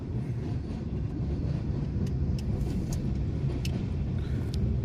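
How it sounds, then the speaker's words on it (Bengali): A train crossing the long Farakka Barrage at night, heard as a steady low rumble from inside a vehicle on the road, with faint high clicks over the continuous drone. "ফারাক্কা ব্যারেজের উপর দিয়ে ট্রেন যাচ্ছে"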